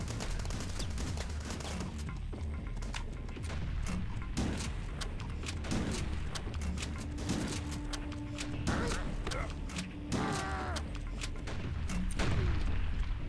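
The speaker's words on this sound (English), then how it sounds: "I'm gonna use the crossbow since I have it. And the SMG." Crossbow bolts and SMG bursts fire in the shooter game HROT, a busy run of sharp shots and thumps over a constant game background, with enemy noises mixed in.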